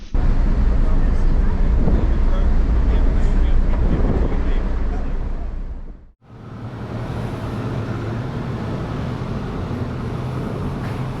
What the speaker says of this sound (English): I'm going to go out on deck and have a bit of a wander around the boat